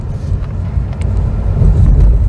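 A 2021 Mazda CX-30's engine rumbles low and steady, swelling louder toward the end as it accelerates, with some wind buffeting.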